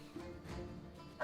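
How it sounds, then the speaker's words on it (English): Dogs in the Battle Brothers video game, modded with the Legends mod, give yips and whimpering barks against a steady background of game music, ending in a louder burst. "The dogs are coming."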